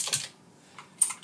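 Typing on a computer keyboard, a few scattered keystrokes in short bursts with quiet gaps between them, fairly close and on its own.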